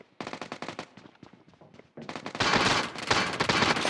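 Video game shotgun fire, a series of sharp close blasts and rapid shots building into dense, loud gunfire toward the end.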